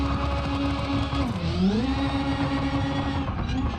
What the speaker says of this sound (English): I feel like they changed some of the car sounds.